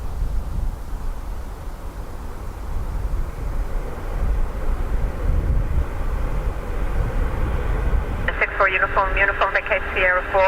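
An aircraft landing at Dublin Airport on a windy day roars steadily as it brakes hard on the runway, with a far, continuous rumble, then crackly air traffic radio talk cutting in near the end.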